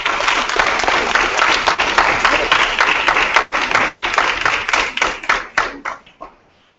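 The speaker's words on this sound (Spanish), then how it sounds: "Fuerte aplauso, por favor, para Alfonso Arámburo." Loud audience clapping at a TEDx talk, dense and sustained before thinning into a few scattered claps that trail off at the end.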